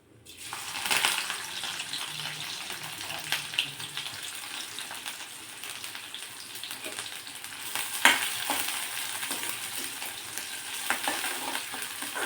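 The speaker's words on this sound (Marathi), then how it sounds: "लालसर किंवा तांबूस होईपर्यंत तेलावर परतून घेऊ।" Finely chopped onion frying in hot oil in a pan, a continuous close sizzle with scattered pops and scraping stirs, louder bursts now and then as it is turned.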